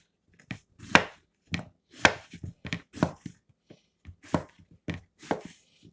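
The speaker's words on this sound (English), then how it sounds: "And then I'll dice them up like that." A knife dices zucchini on a cutting board in about a dozen sharp, close chops with uneven gaps between them and no talking.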